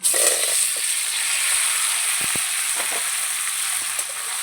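Dried raw mango pieces sizzle steadily in hot oil for a mango pickle, a continuous bright frying hiss with a few faint clicks of the pan, no voices.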